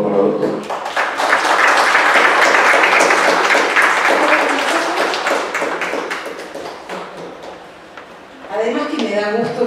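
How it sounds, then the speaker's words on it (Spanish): An audience at a university conference applauds a doctor, with a dense burst of clapping that swells, fades and then gives way to a voice speaking. "Un aplauso, por favor, para el doctor"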